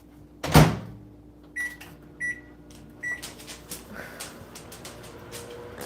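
A microwave oven warming a heat pack, with a loud door thump at the start, then a few short electronic beeps and the steady hum of the oven running close by.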